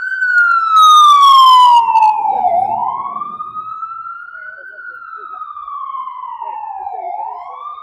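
A loud police and emergency siren on a New York City street swoops up and down in slow cycles; a harsh, buzzy blast cuts in briefly near the start, then the wail carries on alone.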